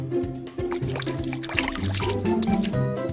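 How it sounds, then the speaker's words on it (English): Ketchup stirred together with soap and water for a homemade volcano experiment, a close wet sloshing and liquid churning that continues throughout, with a steady tonal hum underneath. "Then she mixed ketchup with some soap and water."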